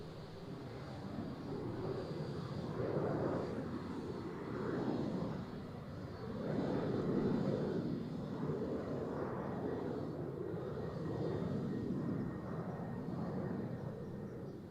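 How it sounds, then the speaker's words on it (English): A United Boeing 787 Dreamliner departs Amsterdam Schiphol on a windy day, a steady broad jet roar that swells and fades in slow waves across the whole stretch, with no talk over it. "let's wait for the 787 Dreamliner from United."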